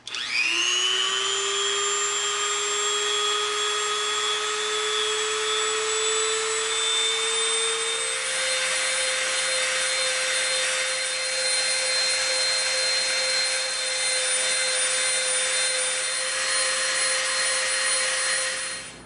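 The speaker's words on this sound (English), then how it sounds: "We've got our Dremel out. We're gonna slightly round this edge." Dremel rotary tool rounding the edge of EVA foam, a steady high-pitched whine that spins up at the start and drops slightly in pitch as it bites, continuous and close throughout.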